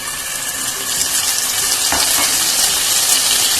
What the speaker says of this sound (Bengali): ফোড়নটা তেলের মধ্যে ভেজে নিয়েছি, একটা সুন্দর স্মেল বেরোচ্ছে।